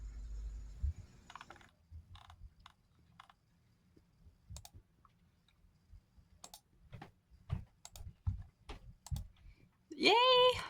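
Someone types an essay on a computer keyboard, producing irregular bursts of close, crisp key clicks separated by short pauses, followed by a brief voice at the end.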